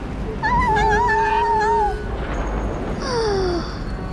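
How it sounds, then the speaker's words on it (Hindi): Wavering, eerie moaning tones from a vehicle rise and fall like an old person groaning in pain, fading and returning with a second sliding wail over a low rumble; no talking. "उस गाड़ी से ऐसी आवाज आती है मानो कोई बुजुर्ग दर्द में कराह रहा हो"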